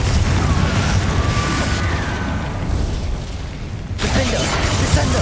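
A Confringo fire-blast spell in Hogwarts Legacy, heard as a dense, loud rumbling explosion with crackling bursts that runs continuously, dips briefly and then flares again near the end.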